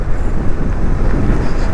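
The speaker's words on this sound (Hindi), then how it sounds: "यहाँ पे एज यूजुअल चिली हवा चल रही है।" Chilly wind blows steadily across the microphone at a busy mountain tourist spot about 2 km before Spangmik village on the road to Umling La and Hanle, a dense roar with no voices.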